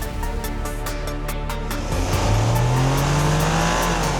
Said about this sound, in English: The engine noise is not the most appealing.